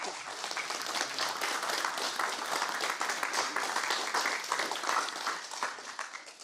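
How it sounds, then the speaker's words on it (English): Applause from a conference audience at the close of an academic event, a thick, continuous clapping from a large room that holds steady for several seconds and then tapers off. "You notice that I miscued the applause for you"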